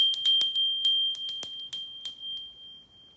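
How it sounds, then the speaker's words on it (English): A small bell used in a spiritual practice rings in a quick series of bright, close metallic strikes, the last few spaced out and left to ring and fade, with no talking. "Or do you resonate with the bell?"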